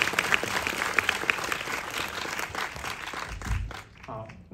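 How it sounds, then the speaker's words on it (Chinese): Audience applause fills the room at the opening ceremony of the 13th Taiwan International Documentary Film Festival as a filmmaker is welcomed on stage, steady clapping from a large crowd that thins toward the end. "我们先掌声欢迎黄春秋"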